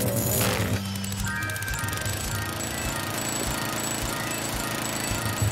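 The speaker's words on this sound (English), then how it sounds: "We have a very crappy made lawnmower over here." In Luigi's Mansion 2 HD, a crude lawnmower starts up with a sharp pull, then settles into a loud, steady rattling, sputtering engine drone that runs on alone.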